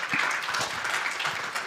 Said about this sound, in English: Another round of applause to her.